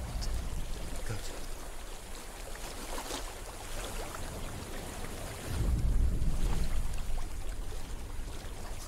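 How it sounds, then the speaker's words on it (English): Flowing water in the video game Hellblade: Senua's Sacrifice, a steady rushing wash with breezy noise that swells louder and deeper partway through, no talking. "I hear water."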